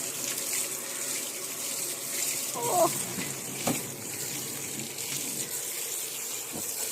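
Water is poured over animals to cool them in hot weather, giving a soft running, splashing wash over a steady background hiss, with a brief splash near the middle and a few faint knocks.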